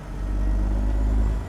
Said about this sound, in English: that's the 14-liter Detroit diesel Z mod.